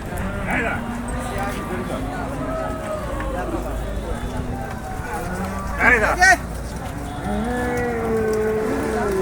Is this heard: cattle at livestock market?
yes